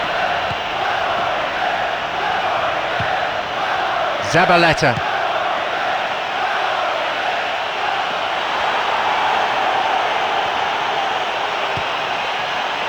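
A football stadium crowd at an England versus Argentina match keeps up a steady, loud roar that builds with anticipation, with a commentator's voice riding over the continuous noise.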